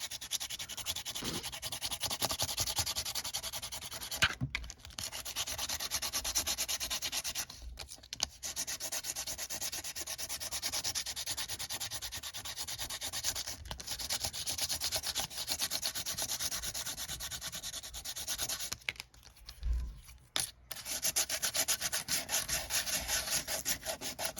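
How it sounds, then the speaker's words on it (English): A nail file rubs scratches into a metal surface for an industrial grunge mixed-media card, a steady close scraping that runs on and on with only a few short breaks, no voices. "So I'm going to improvise with a nail file."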